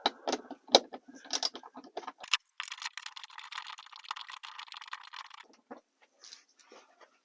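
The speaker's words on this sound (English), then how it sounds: "So just use a 8mm socket to remove it." Close, quiet ratcheting clicks of an 8mm socket wrench taking out a bolt under plastic trim on a Honda Odyssey, rapid irregular ticks with a steadier run of clicking in the middle.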